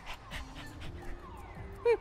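A video-game dog whimpers and whines in short, soft, high-pitched cries, ending in a louder sharp yip, with faint voice in the background.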